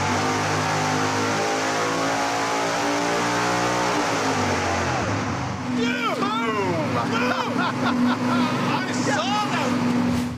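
A nitrous-fed V8 performance engine roars on a dyno, a loud sustained drone whose pitch climbs and shifts partway through, with people talking and shouting over it in the second half.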